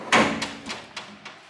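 A Snap-on toolbox drawer slides open or shut with a loud initial clunk, followed by a few lighter metallic knocks and rattles fading out, close by and with no talking.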